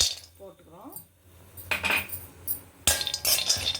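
Almonds are tipped into a kadai and roasted, giving sparse metallic clinks and rattling scrapes against the pan. A voice is heard briefly near the start.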